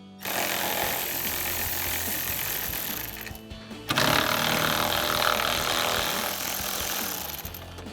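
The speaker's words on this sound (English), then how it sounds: "We're going to start with these two 10mm bolts at the bottom of our headlight. So a 10mm socket to remove them." A power ratchet or impact tool spins a 10mm socket to remove lower headlight bolts on a 2014-2018 Sierra 1500, a loud continuous whirring drone that pauses briefly near the middle, then resumes.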